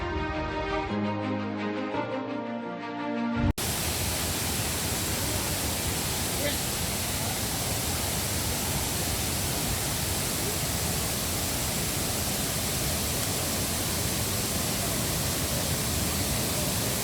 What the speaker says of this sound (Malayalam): അപ്പോൾ ഇതാണ് നമ്മൾ പറഞ്ഞ വെള്ളച്ചാട്ടം.